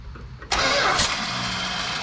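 A Mopar big-block V8 engine cranks over with a finger held over an open spark plug hole to feel compression, a sudden loud, steady mechanical whirring that starts after a short quiet lead-in and continues close by.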